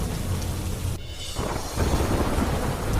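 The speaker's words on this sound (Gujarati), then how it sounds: "આહવા, વઘઈ અને સાપુતારામાં મેઘમહેર, વરસાદથી સામાન્ય જનજીવન પ્રભાવિત થયું" Monsoon rain pours steadily in Dang district around Ahwa, Waghai and Saputara, a dense wash of falling water with low rumbling thunder beneath it, easing briefly before the downpour swells again.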